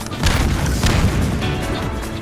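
A Junkrat bomb in Garry's Mod goes off in a loud, close blast, a dense roaring burst that fills the whole moment and stays heavy without fading.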